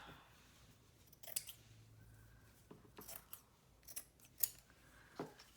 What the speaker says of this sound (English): So let's just cut us some off.